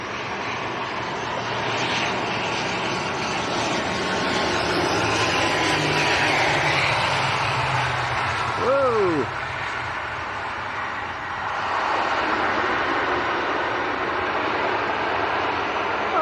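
An Avro Anson vintage propeller aircraft lands at Leeds Bradford Airport, its engine drone steady and fairly loud throughout with a faint whine sweeping by midway, while wind and background noise fill the outdoor scene.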